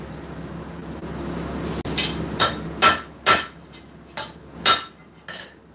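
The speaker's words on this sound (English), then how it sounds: "I can hammer this right here and move that heel forward" Sharp metallic hammer strikes on a hot steel knife blade ring out one after another, about seven blows at an uneven pace, close and loud over a low background hum.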